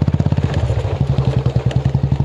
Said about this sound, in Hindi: उस जगह पे हम लोग बाइक से घूम रहे हैं